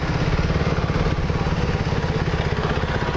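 A KTM Duke 390 motorcycle idles steadily after being parked on a street in Pattaya, its single-cylinder engine putting out a close, loud, even throb with a fast regular pulse and no talk over it.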